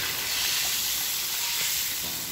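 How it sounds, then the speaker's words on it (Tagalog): Meat sautéing for batsoy sizzles steadily in a pan, a constant close hiss of frying with faint stirring clatter underneath and no talking. "Gisa-gisa na yung karne."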